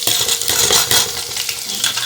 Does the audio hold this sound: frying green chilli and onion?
yes